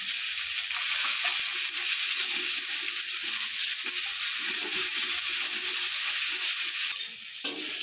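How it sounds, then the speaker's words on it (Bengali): Cumin, green chilli and ground masala sizzle steadily in a pan for a pumpkin-stalk curry, a close, dense frying hiss that holds from start to finish with a few small clicks near the end. "মশলাটাকে ভেজে নিয়েছি।"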